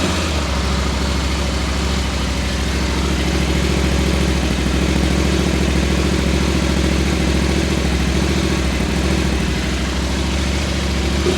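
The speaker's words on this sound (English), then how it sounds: "Anyway, we're going to start these guys up." A KTM 1290 Super Adventure and an 890 Adventure R idling side by side, a loud, steady, continuous engine rumble with even low pulsing that holds unchanged throughout, close by and without voices.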